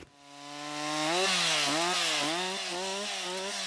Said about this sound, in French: La tronçonneuse pèse bonnement 7 à 10 kilos